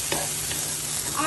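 Paneer bhurji with chopped tomatoes sizzles in a pan while being stirred, giving a steady close frying hiss with soft scraping strokes and no voices.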